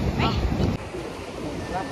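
Sea waves wash onto a beach in Goa, a rushing surf roar mixed with strong wind buffeting the microphone, loud and close, with faint voices in the background.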